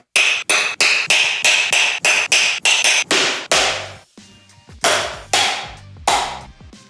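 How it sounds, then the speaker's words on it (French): The back of a knife blade strikes a coconut in a rapid run of sharp, loud, close taps, followed by a short pause and then a few slower, heavier knocks with a ringing tone. "on va prendre un couteau et taper avec le dos de la lame"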